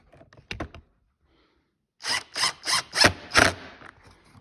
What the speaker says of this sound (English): We're going to tighten those up. Again, 25 Torx.